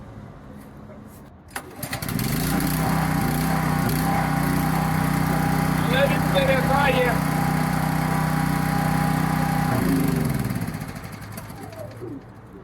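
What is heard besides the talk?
3 kW inverter generator starting and running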